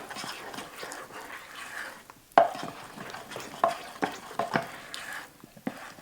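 Giblet gravy is mixed in a pan with irregular spoon scrapes and taps over a soft bubbling sizzle. The strikes are sharp and close, and several come in quick bursts.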